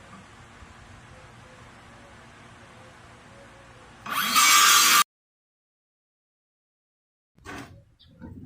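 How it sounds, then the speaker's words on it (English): A power drill drives a screw down into floor sheathing in the back room of a house under renovation. It is a single short, loud whirring burst that rises in pitch over steady background hum, then cuts off abruptly. "Just gonna screw this down."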